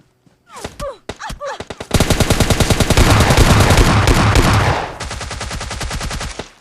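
Rapid bursts of gunfire from a PUBG Mobile Lite match, a few separate shots first, then a long loud sustained automatic volley, a brief pause, and another steady burst, all close and without talk.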